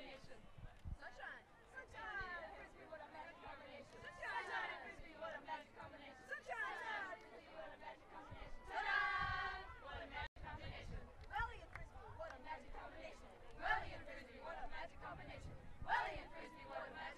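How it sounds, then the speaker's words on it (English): Spectators at a women's netball pool match between Auckland Zodiac and Auckland Vixens at the 2017 NZ Nationals raise a steady babble of chatter and cheering, with a louder burst of shouting near the middle and smaller swells later. "What a cool cheer."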